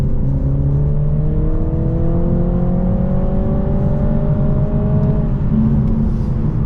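A 2022 BMW Z4 sDrive 2.0-litre petrol convertible accelerates hard from about 3,500 rpm, its engine note climbing steadily through a single gear before a shift near the end, heard close and alone.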